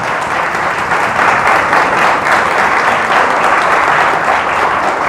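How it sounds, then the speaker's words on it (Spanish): A church congregation applauds loudly during a sermon, a dense, sustained roar of clapping from many hands with no speech over it. "Dele fuerte el aplauso a Dios."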